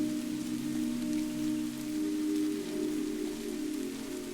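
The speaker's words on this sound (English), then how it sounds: "the rain shifts, becoming softer, lighter, like a whisper against the leaves." Rain falls steadily on leaves in an olive grove, a soft, even patter with a low hum underneath and no voices.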